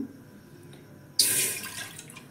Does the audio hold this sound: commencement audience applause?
no